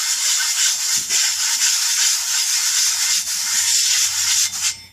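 A beveled block is rubbed in circular swirls across a new, never-used sharpening plate, making a loud, steady gritty scraping that rises and falls with each sweep, with a few faint knocks underneath and no voices.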